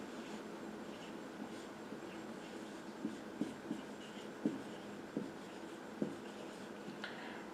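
Someone writes on a board during an economics lecture, leaving faint, intermittent tapping strokes over a steady room hiss, with no talking.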